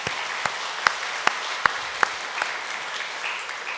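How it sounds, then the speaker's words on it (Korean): A church congregation at a Korean Sunday service clapping together, a dense, even wash of applause with a few sharper individual claps standing out, fairly close, fading slightly near the end. "우리 하나님께 영광의 박수를 한번 올려드리겠습니다"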